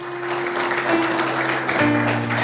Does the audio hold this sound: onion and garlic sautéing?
no